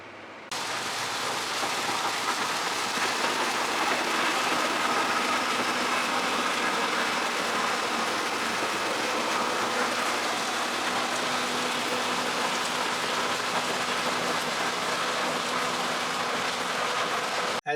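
A combine harvester runs in a milo field with a steady, loud, dense roar and rumble, continuous from start to finish with a faint low hum beneath, no voices.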